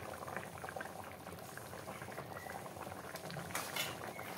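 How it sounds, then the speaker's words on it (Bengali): Jackfruit kalia curry boils in a pot, a close, continuous bubbling and popping with busy liquid gurgles throughout and no voices. "আমি এখন 15 মিনিট এটাকে ফোটাতে দিচ্ছি।"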